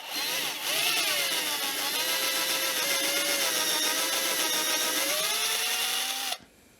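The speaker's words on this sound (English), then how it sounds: "I'm only going to drill one hole for now and put a screw into it" A drill with a 4mm bit bores a single hole at a jeweler's bench, a steady close whine with slowly wavering pitch lasting about six seconds before stopping abruptly.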